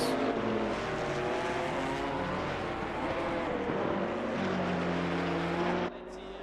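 A Chevrolet GT4 race car drives around the Paul Ricard circuit, its engine roaring loudly with rising and falling gear-change pitch sweeps and a continuous high-revving drone that drops away sharply just before the end.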